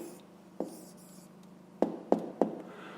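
Pen writing down an answer to a fifth-grade maths exercise, soft scratching strokes with a handful of sharper taps as marks are made, close and quiet.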